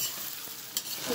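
Onions fry in a pan for chicken curry, a brief close, even sizzle with a faint clink partway through.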